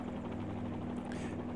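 Simulated helicopter hovering in a flight simulator game, a steady droning rotor and engine hum with a constant low tone and even loudness, alone without speech.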